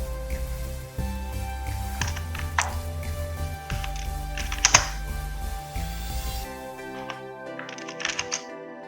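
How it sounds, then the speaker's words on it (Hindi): Fast typing on a computer keyboard gives a steady stream of close clicks over a low hum, with a few sharper keystrokes and a quieter stretch near the end. "मुझे लगता है आपको कीबोर्ड का आवाज आ रहा होगा, मेरा वो आदत ही है जल्दी जल्दी टाइप करने की"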